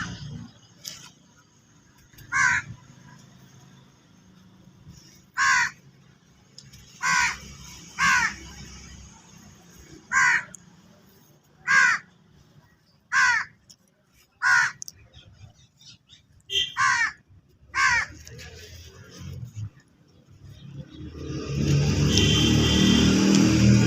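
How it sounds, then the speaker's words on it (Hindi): Crows caw outdoors in a series of about a dozen loud, harsh calls spaced a second or two apart, followed at the end by a swelling rumble of a passing vehicle. "कौवे ने मेरा पूरा साथ दिया"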